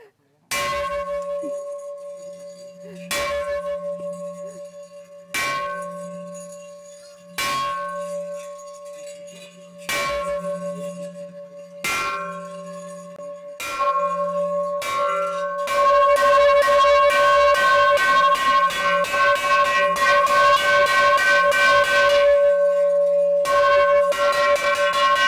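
Bell struck repeatedly at a village gathering in a Vân Kiều hamlet, loud single clangs spaced a few seconds apart with long ringing tails, then speeding into a rapid continuous ringing that sustains to the end.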